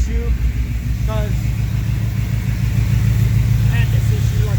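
The engine of a 1985 K20 truck runs steadily at a low, throbbing idle, close and loud, while someone talks over it.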